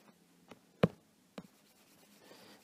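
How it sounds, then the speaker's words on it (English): A board eraser wipes across writing in a few short, separate strokes, soft and close, with quiet gaps between them. "I will erase this part"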